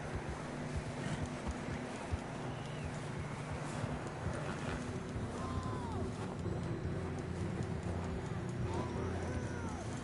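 Hooves clop rhythmically at a gallop in a PS4 video game under steady wind rush, with a voice talking over the pounding gait.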